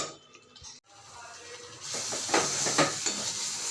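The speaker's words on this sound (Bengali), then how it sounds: "এবার ভালো করে এটাকে কষাবো" Spice paste with Kashmiri chili powder being sautéed in oil for rajma, a soft sizzle that swells into steady frying hiss with stirring scrapes after a brief pause.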